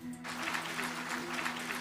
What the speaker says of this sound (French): des applaudissements claquent dans l'enceinte du Conseil de sécurité